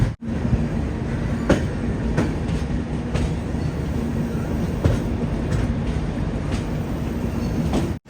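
The Saraighat Express rolling on rails between Guwahati and Kamakhya, a steady loud rumble heard from inside the carriage with regular clickety-clack wheel beats over rail joints.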